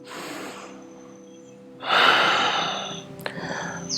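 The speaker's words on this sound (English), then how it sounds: "2 more rounds of breath here." Deep yoga breaths during a vinyasa flow, a steady soft inhale-exhale rushing airflow that swells louder midway, close to the mic with no talk.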